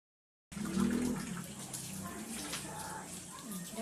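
Tap water runs steadily and fairly loud while dishes such as plates and spoons are washed and soaped in a kitchen sink, a continuous splashing rush that starts abruptly and carries on throughout.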